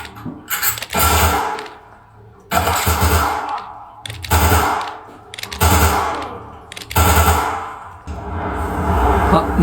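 Submachine gun fire in a PS5 game, loud close bursts of rapid shots repeating about every one and a half seconds with short quiet gaps between them.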